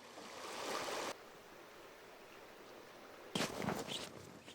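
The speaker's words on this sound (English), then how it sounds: "after a short way we cross the river that we have been following all this time" A woodland river flows on a walk, a soft steady rush in the background swelling louder in two stretches as the crossing nears.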